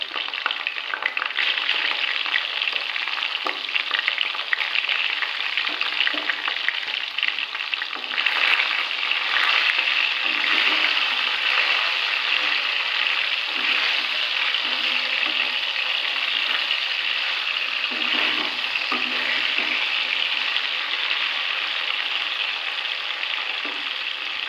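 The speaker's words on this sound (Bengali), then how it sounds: "কপিগুলো আস্তে আস্তে ভাজা হয়েই যাচ্ছে" Cauliflower frying in oil in a pan gives a dense, continuous sizzle, close and steady for the whole stretch, with occasional soft stirring scrapes.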